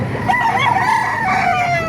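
A kanawayan rooster crows once in a long, wavering call lasting nearly two seconds, close and clear over faint background noise at a market in Baliuag.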